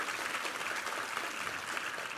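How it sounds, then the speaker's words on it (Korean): Church congregation applauding during a Sunday worship service, a dense, even patter of many hands clapping together, steady and fairly loud. "우리 하나님께 감사와 영광의 박수 올려드리겠습니다"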